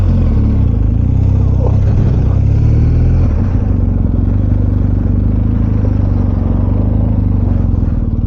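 A BMW R1250GS motorcycle pulls away, its engine a loud, close, steady drone that rises slightly as it gets under way, with wind and road rumble filling the background.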